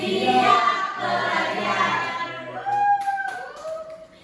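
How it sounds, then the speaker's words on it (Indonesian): A classroom claps along in a chant, a dense wash of many hands under group voices, followed by a few scattered, fainter claps as the chanting trails off. "tepuk tangan 5, tepuk semuanya"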